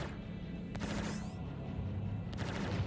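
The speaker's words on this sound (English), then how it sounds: "you can see the effects on the shield as we're hitting this guy" Laser cannons fire at a ship's shields during a Star Citizen space battle, giving rapid bursts of sharp, crackling shots over a steady low rumble of engine noise.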